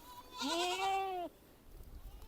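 A young Sirohi goat kid, about one and a half months old, gives one clear, close bleat lasting under a second at a goat farm, followed by quiet.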